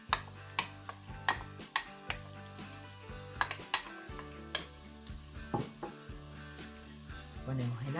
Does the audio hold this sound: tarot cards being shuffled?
no